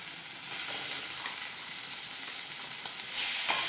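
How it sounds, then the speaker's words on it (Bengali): Small pieces of chicken frying with onions in a hot pan, giving an even, close hiss of sizzling oil that continues for a few seconds with a slight swell near the end. "চিকেনটা আমি এখন এর মধ্যে দিয়ে দিলাম।"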